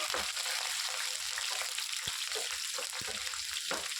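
Seeds and onions fry in hot oil for an Andhra-style gongura chutney tempering, a steady loud crackling sizzle with a few sharp pops and spatters, close by and free of talk.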